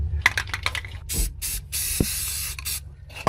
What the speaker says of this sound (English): spray some paint on it